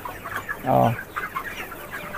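Color Bird chickens on a farm shed cluck in a short, fairly close burst that rises then fades, with soft barn ambience around it.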